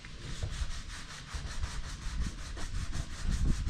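A small power sander smooths wood in a faint, close, rhythmic rubbing with a soft steady pulse and a low rumble beneath, getting slightly louder toward the end.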